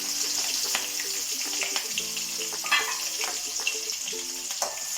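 Garlic frying in a pan, a steady sizzling hiss with scattered pops and scraping, heard over soft background music.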